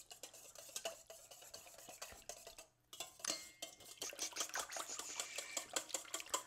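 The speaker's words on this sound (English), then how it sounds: "Now we're gonna whisk these together, see?" Vanilla and other ingredients being whisked into one smooth liquid, with a quick, steady clatter of the whisk against the bowl, close and fairly quiet, with a short pause partway through.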